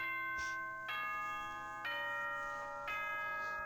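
Doorbell chime from the video game Danganronpa, a four-note bell sequence with each clear tone ringing out and sustaining into the next, heard on its own with no talking.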